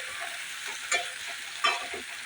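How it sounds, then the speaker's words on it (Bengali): Chopped tomato and green chilli frying in a pan make a close, even sizzle, broken by two quick stirring scrapes. "তারপর দিয়ে দেব টমেটো কুচি আর লঙ্কা কুচি, দিয়ে ভালো করে কষিয়ে নেব।"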